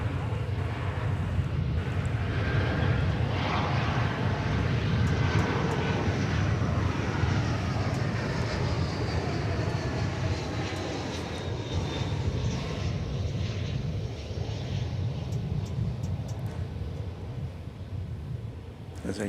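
A United Airlines Airbus A320 jet drops in to land at Dallas Fort Worth airport, its engine roar loud and broad from the start, then slowly easing and fading as the plane passes on.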